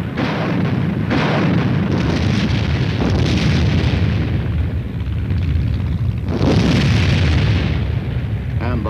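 Korean War artillery guns fire heavy booms, with loud bursts standing out near the start and again later, over a continuous rumbling roar that never drops away.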